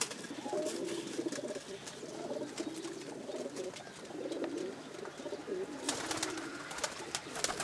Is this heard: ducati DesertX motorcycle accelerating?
no